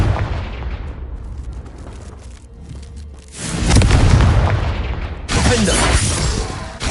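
In the Hogwarts Legacy video game a Confringo blast spell detonates with a loud explosive boom, then a second sharp blast follows and leaves a broad roaring rush that lingers. No one talks over the blasts.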